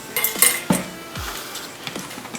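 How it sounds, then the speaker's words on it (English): Cake batter with a tablespoon of lemon juice being stirred in a bowl, a few sharp clinks and scrapes of a utensil against the bowl, close, then a quieter stretch with a couple of light knocks. "So you give it a bit of stir."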